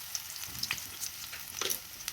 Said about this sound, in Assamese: এইখিনি ভালকৈ অকণমান মই ভাজি ল'ম